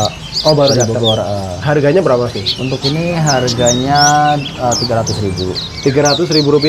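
A pleci bustomi white-eye sings from a cage at a bird kiosk, its bright high chirps and trills scattered throughout beneath steady close conversation.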